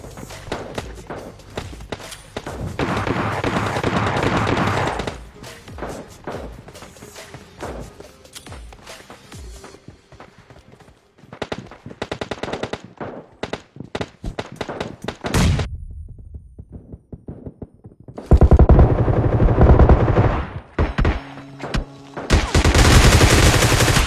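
Gunfire in the battle royale game PUBG/BGMI: dense bursts of automatic fire, single shots and heavy thumps, with quieter footstep-like stretches between and loud close volleys near the end.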